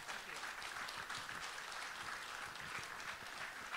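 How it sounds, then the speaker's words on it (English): Following a lecture on redistribution, the audience gives a sustained, full round of applause, dense clapping filling the room at an even level with no speech over it. "let's give him a big round of applause"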